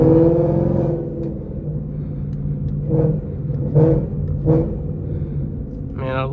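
Ford Mustang GT V8 exhaust with a burble tune, downshifting on the road: a steady deep rumble from inside the car, broken by several sharp crackling pops and burbles, with a voice talking over it.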